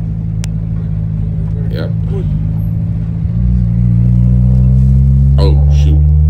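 A car fitted with a Honda D16A6 VTEC engine accelerates hard to overtake a van on the street, its loud, steady engine drone rising in pitch and strength halfway through, with someone speaking briefly over it.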